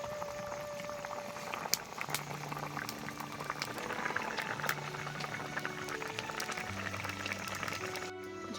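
Fish curry broth with potatoes simmering in a pot, a soft continuous bubbling with scattered small pops and ticks, faint and close, no voices.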